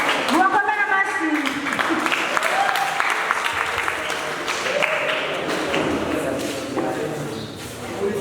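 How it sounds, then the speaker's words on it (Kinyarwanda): Church congregation clapping together at a lively worship service, steady dense applause running throughout, loud and close, with voices and singing mixed underneath. "mubakomere amashyi"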